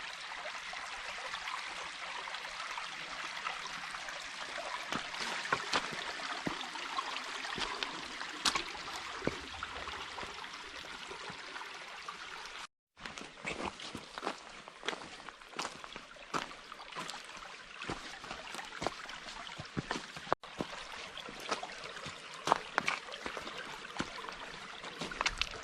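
Shallow creek water trickles and rushes steadily over rocks in Bernheim Forest while someone wades upstream, with irregular splashing steps and brief handling bumps close to the mic and a short dropout midway; no talking.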